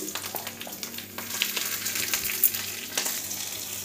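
Curry leaves and chillies frying in hot oil, a close, continuous crackling sizzle with a few sharp pops and light utensil scrapes.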